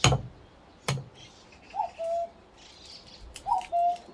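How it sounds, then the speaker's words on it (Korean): A cuckoo calls outdoors, two short two-note calls a couple of seconds apart, moderately clear over a quiet background with a few knocks and faint other birds. "뻐꾸기 소리가 예쁘게 나네요."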